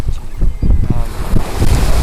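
Atlantic ocean waves and strong wind on the coast at Glace Bay, Nova Scotia, a loud continuous rush and rumble with wind buffeting the microphone.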